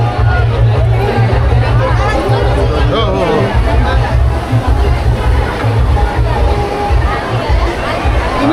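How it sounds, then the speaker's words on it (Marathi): Dense crowd hubbub at a village goddess palanquin procession, a steady wall of many overlapping voices and chatter filling the whole stretch, loud and close, with constant low rumble underneath. "जाम गर्दी आहे"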